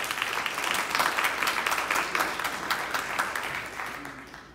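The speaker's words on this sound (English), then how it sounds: "Give them a big round of applause." Applause from a conference audience welcoming speakers to a panel on digital optimization in the oil and gas industry, dense steady clapping that fills the room and fades slightly toward the end.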